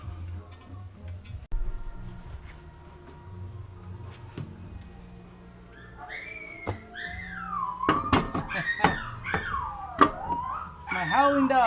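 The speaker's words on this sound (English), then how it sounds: "My howling dogs." Several dogs break into loud, wavering howls in the second half, rising and falling together after a quieter stretch of faint mechanical ticking.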